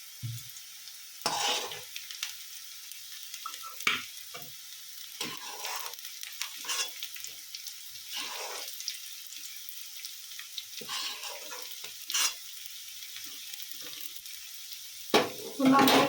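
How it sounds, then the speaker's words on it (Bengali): Onions frying in oil in a pan for a Bengali fish bhorta, a low sizzle broken by repeated scraping bursts of stirring, with running water in brief moments. "পেঁয়াজটা একটু ভালো করে ভেজে নেব"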